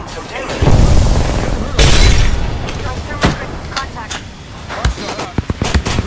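Arc star grenade blasts in the video game Apex Legends: two heavy, booming explosions close by with lingering crackle, followed by scattered sharp gunshot-like pops amid game combat noise.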